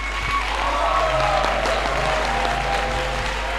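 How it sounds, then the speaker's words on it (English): Church congregation applauding during a sermon, sustained dense clapping at steady loudness from a large crowd, with no talk over it. "Can we clap one more time for the King of Kings?"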